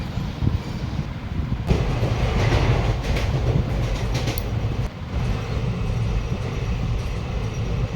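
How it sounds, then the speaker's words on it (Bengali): A passenger train runs steadily, with continuous loud rumble and rattling of the carriages and faint clickety-clack from the rails, heard from inside the car throughout. "তো আমরা ট্রেনেও উঠে গেছি।"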